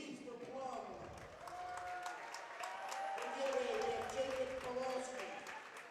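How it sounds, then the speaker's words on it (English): Home crowd cheering and clapping as a wrestler is announced at a high school wrestling match, a moderate wash of applause and shouts in a gym, with a commentator talking over it. "There's Lucas being announced, gets a nice cheer from the home fans"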